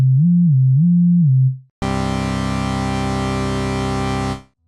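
A vocoder synth demo first plays a low, wobbling sine-wave modulator alone, then after a short gap a dense, buzzy, gritty bass tone made from a rich carrier, held steadily for a few seconds.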